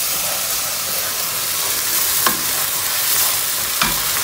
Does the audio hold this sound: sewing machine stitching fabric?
no